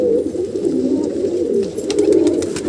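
Dhuma pigeon cooing steadily in a close, low rolling coo that continues without pause, with a few faint higher chirps and clicks near the end; no talk.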